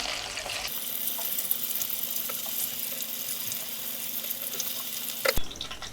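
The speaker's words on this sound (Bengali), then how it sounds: "ভাজা শেষ, এখন উঠিয়ে ফেলবো।" Food crisping in a frying pan makes a steady, moderately loud sizzling hiss for several seconds, then cuts off abruptly near the end. No voices.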